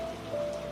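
Steady rain hisses evenly on a surface in a very short, soft, continuous wash of sound, with no voices.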